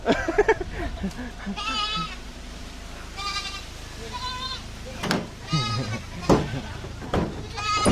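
Goats bleat repeatedly at a farm as they are handed over, several wavering calls close by, mixed with people talking and handling the animals.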